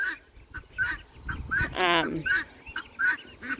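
Pekin ducks on a farm quack and honk repeatedly in loud, close, overlapping calls, one raspy call standing out in the middle, with a faint outdoor background.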